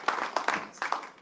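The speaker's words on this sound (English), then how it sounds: "round of applause for Tom." An audience at a live business event in Raleigh, North Carolina gives a short, light round of applause, with scattered quick claps close together in a room.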